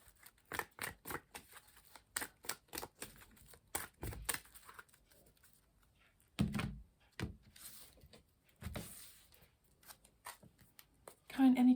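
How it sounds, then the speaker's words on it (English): A deck of tarot cards is cut and shuffled, with quick crisp card slaps and riffles in bursts, close by, mixed with a few soft thumps of the deck on a table and a speaking voice in between. "but we're going to cut the deck."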